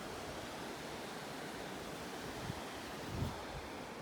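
Meltwater stream pouring from a glacier in the Canadian Rockies rushes in a steady, dense roar of water, constant and fairly close, with no talking.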